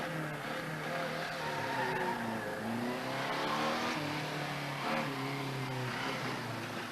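A vintage Ulster Austin 7 climbs a hill course at a speed event, its small engine droning steadily and loud throughout, with the pitch rising and falling through gear changes as it pulls up the slope.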